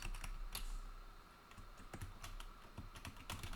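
Typing on a computer keyboard: a steady run of quick, light key clicks, close and soft, with brief pauses between bursts and no voice over it.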